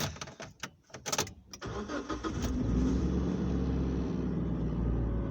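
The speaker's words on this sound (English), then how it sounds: "Oh, but I'll turn the car on first." A car engine cranks with a few rough bursts, catches, and settles into a steady, loud idle that holds to the end, with a CB radio being fitted inside the vehicle.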